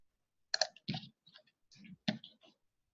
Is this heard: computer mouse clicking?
yes